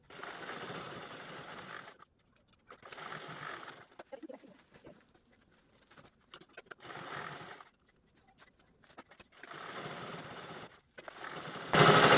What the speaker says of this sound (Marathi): आता खालच्या साईडने पण सेम जिथे आपला बॉटमचा कॉर्नर आहे आणि अशा पद्धतीने स्टिच करून घ्यायचं आहे